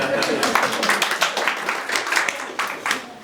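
Audience clapping at a showcase event, a dense run of overlapping claps lasting a few seconds, close and fairly loud, with a little talk mixed in.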